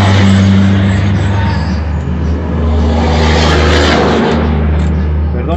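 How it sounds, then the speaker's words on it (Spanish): Heavy dump trucks rumble past near a construction site for a new airport, a loud continuous low engine drone with rising and falling diesel noise throughout, steady and close. "un poco de ruido con lo que son los camiones de volteo"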